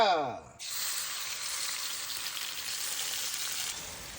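Chili frying in hot oil in a wok, a loud and steady close sizzle that starts suddenly after a brief voice and goes on without a break.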